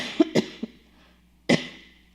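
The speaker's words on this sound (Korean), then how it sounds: "갑자기 기침이 나오네요." A speaker coughs during a Korean-language sermon: quick, close bursts in a short cluster, then one more harsh cough after a brief pause, with no talk over them.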